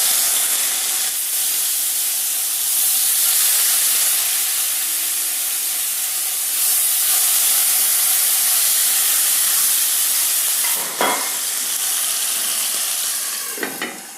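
Marinated hilsa fish fries in hot oil, a dense continuous sizzle and hiss heard up close, with a couple of brief clatters near the end.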